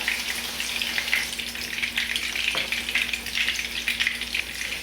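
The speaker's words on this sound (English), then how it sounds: "I'm gonna turn it around and fry it on the other side and press a little bit more." A Cuban frita burger patty fries in a pan, giving a steady close sizzle and crackle of hot oil that holds without pause, with a soft scrape as it is pressed.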